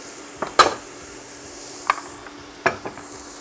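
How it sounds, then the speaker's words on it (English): A spoon stirs vegetables in a pot for chicken corn chowder, making three or four sharp metallic clinks and scrapes against the pot's side over a faint background hiss. "Give that a stir"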